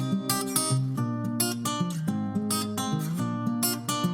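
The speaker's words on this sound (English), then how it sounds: "that finger style guitar sounds like this." A fingerstyle guitar sample for an Afro/Moombahton remix plays bright plucked notes in a syncopated, repeating pattern. It is clear and close, with no voices.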